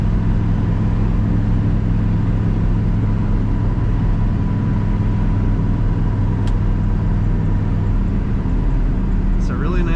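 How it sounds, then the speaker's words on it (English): A 1970 Oldsmobile 442 cruising down the road gives a steady, smooth low engine and road rumble throughout, with someone talking over it. "This car goes nice and straight down the road."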